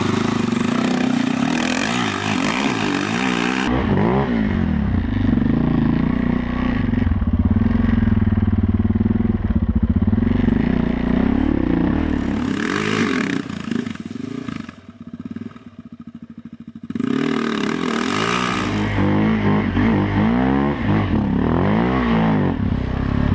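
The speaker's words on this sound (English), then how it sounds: "why can't Lyndon and Lukas simply ride around this giant puddle in the road instead of riding through it?" Adventure motorcycles plough through a giant mud puddle on the Road of Bones, engines revving loud and close, dipping briefly before surging again with rough, throaty acceleration.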